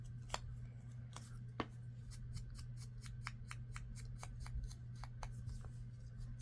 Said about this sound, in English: It's just easier with a tab cutter to just cut them.